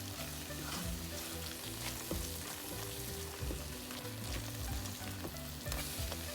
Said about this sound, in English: and then fry it with the onion